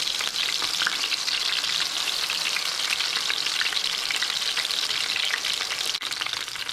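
Fish koftas fry in a pan, a dense, even crackling sizzle that holds loud and close throughout with no talking.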